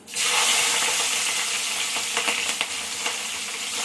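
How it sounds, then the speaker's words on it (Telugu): Green chillies dropped into hot oil for a cucumber and dried-fish curry, an abrupt loud sizzle that holds as a dense steady frying hiss with a few faint stirring scrapes. "ఇదిగో ఇప్పుడు పచ్చిమిరపకాయలు వేసేసుకుందామండి ఇందులో"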